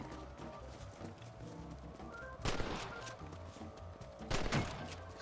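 Gunshots in the video game Red Dead Redemption, two loud bursts over a steady game soundscape of music and ambient tones, set in an open-world Western game.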